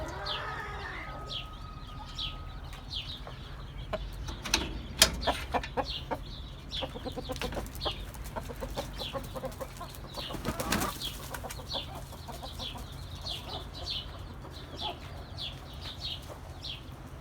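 Ameraucana hens and a rooster cluck softly and repeatedly in a coop, with scattered short calls and occasional wing flaps, faint and fairly close.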